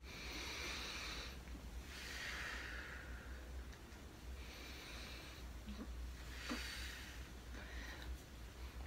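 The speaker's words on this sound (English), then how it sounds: "using your cheeks to push out your air whilst you're breathing in" Circular breathing practice for recorder playing, with the cheeks pushing air out while breathing in through the nose: steady close airy breathing and blowing, with surging hisses, soft snorting inhales and a few small throat clicks.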